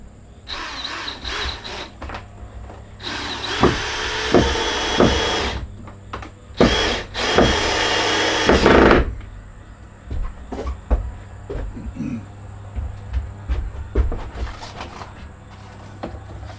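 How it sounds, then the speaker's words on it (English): A power drill drives a screw into a door hinge during a home addition build, with several loud bursts of whirring separated by short pauses and small clicks and knocks between them. "what I'm going to do is put a screw in the hinge right here."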